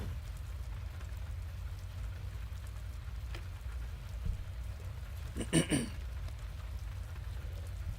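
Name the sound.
rain falling, ambience in the video game Witch on the Holy Night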